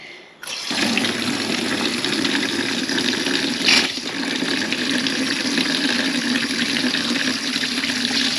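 Steady, loud rush of water pouring from a hot water tap at an off-grid house in Portugal, starting abruptly after a brief quiet moment and running continuously, with a short brighter splash partway through.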